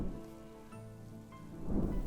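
Rain falling with low thunder rumbling in Minecraft, a steady hiss of rainfall under a deep rolling swell that grows toward the end.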